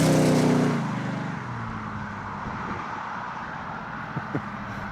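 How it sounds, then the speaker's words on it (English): A built 454 Chevrolet C10 truck roars loudly at the start, then the engine settles into a steady rumbling drone with a few sharp pops near the end, close by. "We're going to do a burnout."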